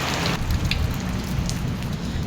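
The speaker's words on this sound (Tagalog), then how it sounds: "kasi malakas yung ulan" Heavy rain pours down in a dense, constant hiss, with a few sharper drops pattering on nearby surfaces and no one speaking.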